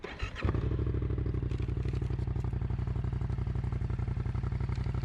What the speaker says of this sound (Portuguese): Vamos ligar a moto aqui rapidinho pra vocês verem?